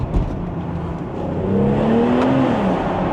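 A BMW X3 M40i with its stock B58 engine revs up inside a tunnel, the exhaust note rising in a loud, echoing swell over a steady low rumble for a few seconds.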